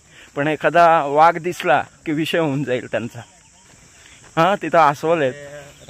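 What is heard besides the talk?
crickets chirping in dense forest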